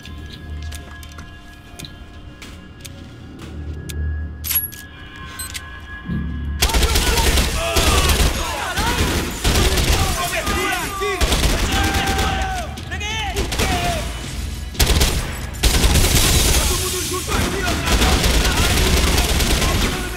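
Gunfire in a video game, quiet game ambience for several seconds then a sudden sustained run of loud rapid shots and impacts continuing to the end.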